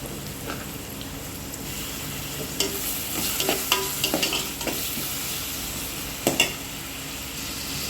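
Onions and tomatoes sizzle steadily in hot oil in a pan for a coconut milk prawn curry, with intermittent scraping clinks of a spoon stirring close by.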